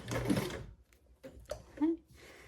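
A sewing machine bastes a box stitch, giving a few short, close bursts of stitching right after a person speaks briefly.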